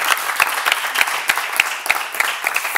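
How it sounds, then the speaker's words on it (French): A studio audience on a televised educational magazine show claps steadily and fairly loudly, with dense overlapping hand claps holding evenly throughout. "Ces applaudissements sont pour vous."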